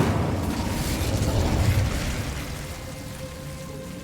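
Incendio fire spell cast in Hogwarts Legacy, a dense roaring, crackling burst of flame that swells loudly, then thins into a quieter hiss with a faint tonal hum, with no talking.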